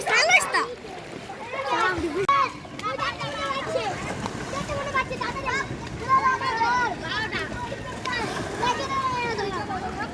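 Water splashing as people swim in a fresh village pond during hot weather, repeated splashes close by under near-constant excited voices, including children's.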